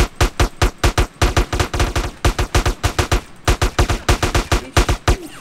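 Rapid automatic gunfire in the DayZ video game, loud bursts of closely spaced shots with brief gaps between volleys, up close and without talk.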